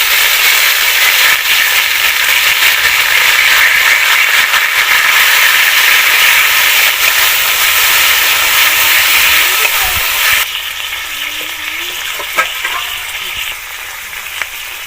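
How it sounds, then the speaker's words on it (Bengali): Bay leaf, whole cumin and washed thankuni leaves drop into hot oil, giving a loud, steady sizzle and crackle. It shifts partway through, with a few sharp pops and clinks near the end. "তেজপাতা দিয়ে দিলাম, গোটা জিরে, ধুয়ে রাখা থানকুনি পাতাগুলো দিয়ে দিলাম।"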